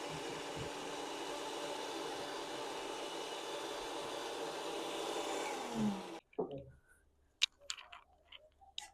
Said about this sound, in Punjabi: ਹੁਣ ਆਪਾਂ ਇਹਨੂੰ ਕਰਾਂਗੇ ਬਲੈਂਡ